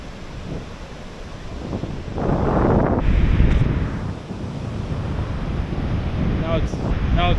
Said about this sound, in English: Now it's getting a little windy